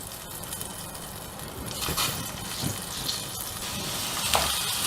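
Rice frying in melted butter in a pan for corn methi pulao, a continuous soft sizzle with occasional brief crackles and pops, close and moderately quiet.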